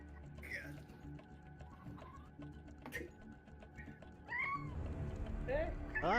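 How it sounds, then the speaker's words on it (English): A pet cat meows several times, with rising and falling tonal calls near the start and a cluster of sharper meows toward the end, close by under a low room hum and faint ticking. "Wait, is my cat meowing?"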